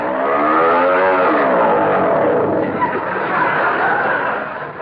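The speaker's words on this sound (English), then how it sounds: "This engine is too noisy." A loud motor runs and revs continuously with a rough, droning rattle, close by and filling the whole stretch.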